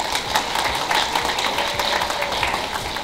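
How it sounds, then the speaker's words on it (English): Big round of applause from an audience at a community Eid Milan gathering celebrating a new provincial government, steady dense clapping filling the short stretch at even loudness with no voices standing out. "Let's wish Premier Horgan and his wonderful team best of luck and a big round of applause."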